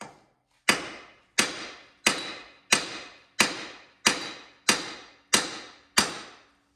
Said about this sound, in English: you're gonna hit on here with a hammer, and it should pull it apart